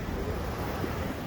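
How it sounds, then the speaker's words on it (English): Ocean waves break on the shore at Pismo Beach, a steady, loud wash of surf mixed with wind noise. "Listen to the fucking waves breaking."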